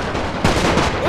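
Gunfire in The Great War, a First World War strategy video game with troops in trenches: a dense, loud wash of overlapping shots and battle noise across one short moment, no voices.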